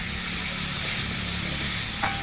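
Drumsticks and potatoes sautéing with spices in a pan, a loud continuous sizzle with faint stirring scrapes and a brief clatter near the end.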